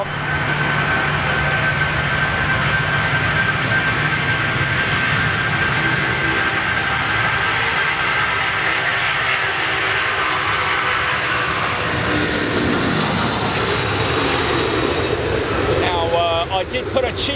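Boeing 747 airliner jet engines running at the runway before a full-length takeoff toward Dubai, a steady loud roar with a high whine throughout, and people talking faintly under it.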